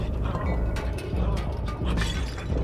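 A glass jar thrown and smashing in the video game Little Nightmares: several sharp shattering crashes over a dense, loud rumbling game backdrop, with no talking.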